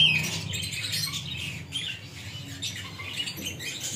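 Fancy pigeons squawk and chatter close by, a busy mix of raspy calls and scratchy rustling with no talking.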